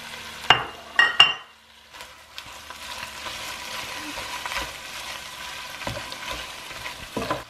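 Chicken and spinach fry in a pan, giving a steady broad sizzle with stirring scrapes and a few sharp clinks of a utensil near the start, close and moderately loud without talk.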